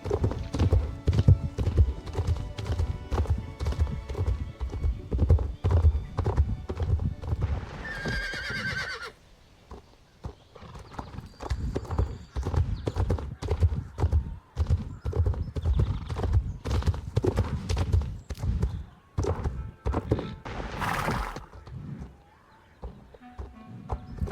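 Horse hooves clip-clopping in a rapid, steady rhythm in the game Star Stable Online, loud and near, broken by a couple of whinnies and a short pause midway.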